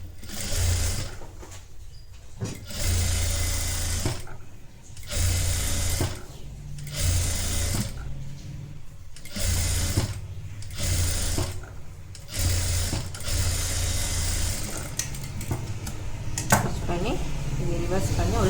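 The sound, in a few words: sewing machine doing flat stitch on a blouse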